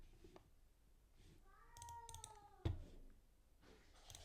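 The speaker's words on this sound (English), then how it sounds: "that's my cat just doing zoomies" Pet cat meowing in a room, a faint drawn-out meow followed by a sharp thump, with soft keyboard tapping and quiet background noise around it.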